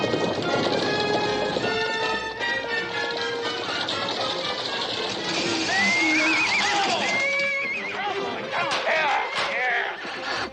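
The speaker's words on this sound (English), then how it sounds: "Unhitch the horses, quick." A horse-drawn wagon racing along in a chase scene from a 1961 film, with horses whinnying and hooves clattering loudly under a full, busy music score throughout.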